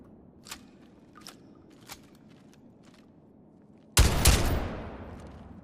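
Several sharp, evenly spaced single shots crack out in the Wardogs video game, then a loud burst of rapid fire erupts and rings off into a long decaying tail, close and punchy over faint background.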